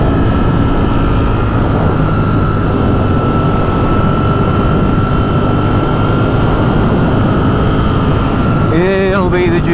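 Loud, steady roar of a Ducati Streetfighter V4S motorcycle engine running close by, a constant drone with a brief rising rev near the end.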